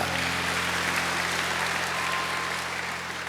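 Church congregation at a worship service claps in praise to God, a steady wash of applause from many hands filling the room, continuous and fairly loud over a low hum, with no talking.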